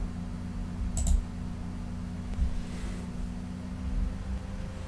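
A computer mouse gives a single crisp click near the start, then a faint second tick, over a steady low hum of computer noise.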